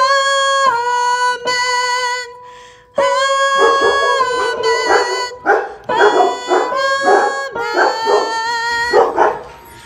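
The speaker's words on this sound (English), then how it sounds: "Sorry, my dogs are going crazy." Several dogs indoors bark and howl together, long wavering howls breaking into rapid overlapping barks and yips, loud and close, with no talking over them.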